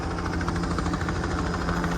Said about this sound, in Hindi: ये हेलीकॉप्टर भी आ गया, दिखाता हूँ।